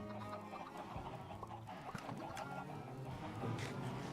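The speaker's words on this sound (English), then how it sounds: "I hear the chickens." Chickens cluck and cackle in a steady, busy layer, fairly close and constant, with no voices over them.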